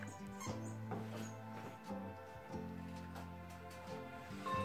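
A dog whines and squeaks faintly and steadily indoors, a soft high whimper running under a low background hum, with no talk.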